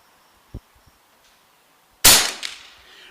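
An AEA .30 caliber air rifle fires once on a range, a sharp loud crack with a short ringing tail, preceded by a faint click and quiet outdoor background.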